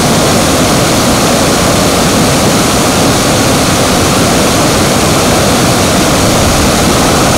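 The swollen stream at Seethapalli waterfall near Rampachodavaram rushes in a loud, steady roar. Close, dense water noise continues without a break for over seven seconds, with no other sounds standing out.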